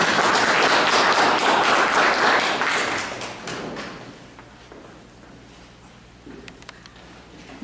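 An audience at an international philosophy of science and technology congress applauds loudly and densely at first, then the clapping thins out and fades over several seconds, leaving scattered claps and faint room sounds.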